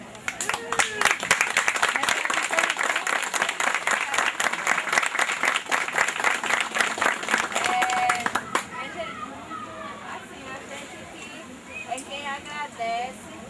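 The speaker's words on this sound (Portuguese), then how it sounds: "Vem para a roda para receber a salva de palmas da gente." A round of applause at a 2008 gathering of traditional peoples opposing the São Francisco River transposition claps on loudly for about eight seconds, then fades as people begin talking over the last scattered claps.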